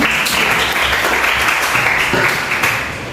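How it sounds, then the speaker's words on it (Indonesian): Steady applause from a crowd, a dense wash of clapping that holds throughout and fades slightly toward the end. "berikan tepuk tangan dulu"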